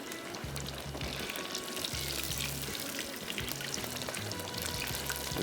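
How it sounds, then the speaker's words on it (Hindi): Coated chicken frying in a pan gives a dense, steady sizzle throughout, with a low rhythmic thumping beat underneath and no voices. "पहले चिकन की इसकी फ्राइंग करेंगे"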